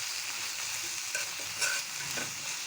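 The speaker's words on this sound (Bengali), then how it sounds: "এখন পেঁয়াজটা আমি তেলের মধ্যে ভেজে নেব" Onion frying in mustard oil in a pan, a steady faint sizzle with a few light stirring clicks, alone and close.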